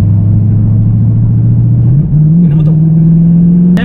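An Audi R8 sports car's V8 engine idling with a deep, steady exhaust drone, then blipping up slightly in pitch and holding a higher idle, close and loud, with a brief sharp click near the end.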